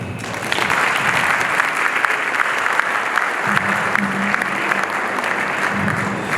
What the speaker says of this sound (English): let's give the president of DuSable Heritage Association, Nicholas Paul, a round of applause